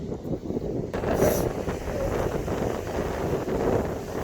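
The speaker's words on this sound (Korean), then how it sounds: "바람 은 많이 부는데 춥진 않다" Strong wind at a beach in Gangneung, buffeting the microphone as a loud, continuous rumbling gust that swells after a quieter start, with no speech.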